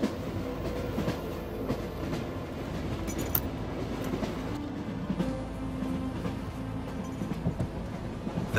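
A passenger train rolls across the fertile plains of southern Russia toward Central Asia, its steady rumble and rhythmic clatter of wheels on rail joints carrying on continuously with a few metallic clinks on top.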